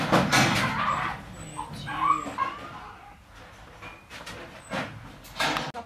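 A dog whimpers and yips at close range at home, with high whining cries and short sharp yelps in irregular bursts, fairly faint, over light background noise.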